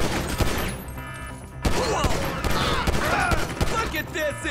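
Rapid gunfire from Grand Theft Auto 5 gameplay crackles in dense volleys through nearly the whole stretch, pausing briefly before resuming loudly, amid busy game noise.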